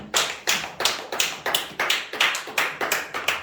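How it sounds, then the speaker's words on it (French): A church congregation claps in unison for the Lord, about a dozen steady rhythmic claps at an even beat, close and clear with no talk. "Est-ce qu'on peut acclamer pour notre Seigneur?"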